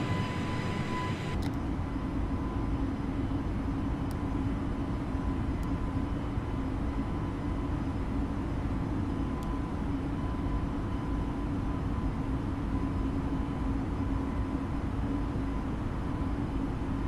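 A simulated airliner takes off in Microsoft Flight Simulator, its jet engines making a continuous, even roar that holds steady throughout with no talk over it.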